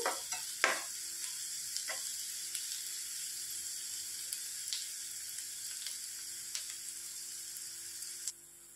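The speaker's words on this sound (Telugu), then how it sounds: "సన్నగా తరిగి పెట్టుకున్న ఉల్లిపాయలు వేసేసుకోవాలి. బాగా ఫ్రై చేసుకోవాలి." Sliced onions fry in hot oil in a pan for egg masala curry, giving a steady close sizzle with a few sharp stirring clinks and scrapes scattered through, and no one talking.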